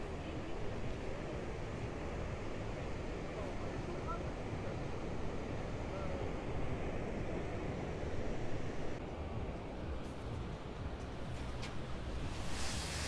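Gentle waves at low tide wash onto the wide El Medano beach in Tenerife, a steady broadband rush with mild wind noise, continuous and even.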